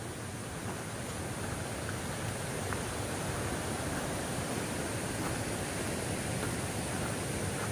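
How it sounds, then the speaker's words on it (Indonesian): A mountain waterfall on the Citiis route up Mount Guntur roars as a steady, unbroken wash of noise. It is constant and moderately faint, with no other sounds. "Ini kan suara air kan"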